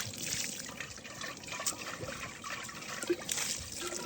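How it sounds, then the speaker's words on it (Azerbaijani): Continuous spring water trickling and splashing steadily, fairly close, with no voices over it. "Bulaq suyudur"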